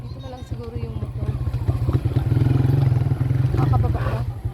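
Motorcycle engine idling and running steadily near a riverside pier, a low throbbing drone that holds through the whole stretch while people talk over it.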